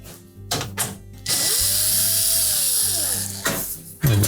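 A power drill backs out quarter-inch hex head screws from a GE range access panel, with short bursts and then a sustained whirring run that winds down, close up.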